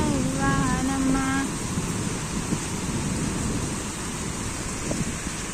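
Steady rain pouring in a dense, even hiss that fills the whole stretch, with a voice singing briefly near the start over it.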